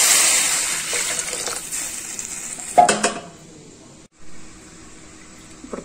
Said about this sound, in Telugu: 3/4 వాటర్ పోస్తున్నాము.